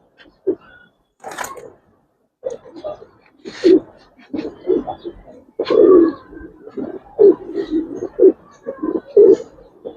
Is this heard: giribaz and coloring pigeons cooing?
yes